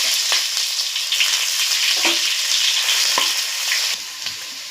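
Ginger dropped into hot oil with mustard seeds sizzles loudly and continuously, with sharp crackling pops scattered throughout and occasional stirring scrapes.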